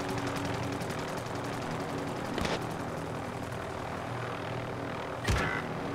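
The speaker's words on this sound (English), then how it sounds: "What's that other helicopter though?" Helicopter in the Call of Duty Warzone video game, its steady rotor drone and engine hum running throughout at moderate level, punctuated by two sharp bangs.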